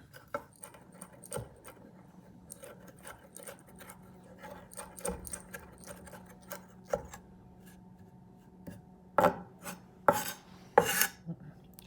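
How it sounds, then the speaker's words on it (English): A knife chops parsley for Argentinian chimichurri on a board, with sparse, soft taps that grow into a few louder, closer thuds near the end over a quiet background. "you start cutting it in tiny pieces. With a knife."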